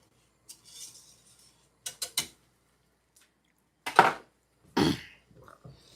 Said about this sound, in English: I'm just going to keep shredding my king oyster mushrooms.